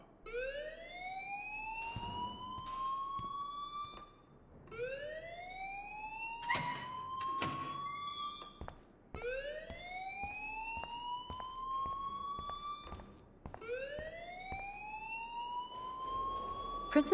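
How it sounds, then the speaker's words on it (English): A school alarm in the video game Life Is Strange wails in four repeating rising siren sweeps, steady and fairly loud, with clanks and background clatter and no talking. "please turn off that alarm since that's your job"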